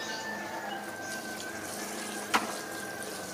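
Water poured into a container while mixing an organic leaf fertilizer made with molasses, a steady low trickle with a brief splash near the end, no talking.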